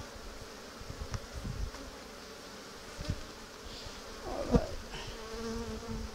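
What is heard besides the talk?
bees buzzing during a beehive inspection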